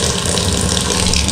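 A kitchen tap runs hard in a small rented flat, a loud, steady gush of water splashing into the sink, close and continuous with no break.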